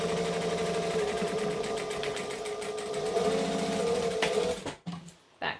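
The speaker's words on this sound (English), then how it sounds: "we're going to fold this back and top stitch it down" A sewing machine top stitching a bag with rainbow thread runs in a fast, steady mechanical chatter close by, then slows and stops near the end with a few short clicks.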